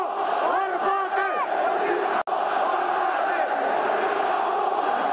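A football stadium crowd in Moroccan football roars and jeers a player in a dense, sustained wall of massed voices, with a few louder chant-like swells near the start and a brief dropout partway through.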